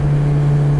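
A 2012 Nissan Versa with throttle-sensor faults holds a loud, steady, droning engine hum at high revs, close and unbroken for a brief moment.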